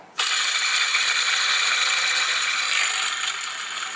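A noisy engine belt tensioner on a running engine gives a steady, loud metallic whirring rattle with a ratcheting edge, starting abruptly and continuing without pause.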